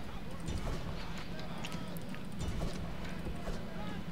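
Horse archers' hooves galloping across a Rome: Total War battlefield, a steady rumbling clatter of many horses at a distance, with battle noise mixed underneath.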